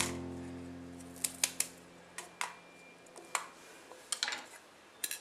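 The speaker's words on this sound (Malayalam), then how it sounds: "ചെറിയ ഉള്ളി ഒന്ന് ചെറുതായിട്ടൊന്ന് മുറിച്ചിടാം" A knife chops small onions (shallots) for dry prawn chutney, giving scattered faint, sharp taps and snips at an irregular pace over a low hum that fades early.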